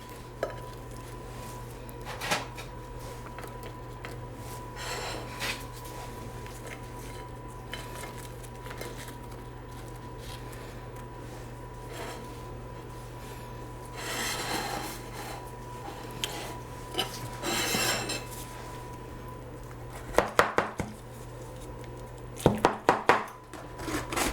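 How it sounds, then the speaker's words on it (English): Metal spatula scraping and scooping baked ziti out of a baking pan, with soft scrapes early on and a cluster of sharper clinks and knocks near the end, fairly close and over a steady background hum. "I use a spatula, just take it and dip it out"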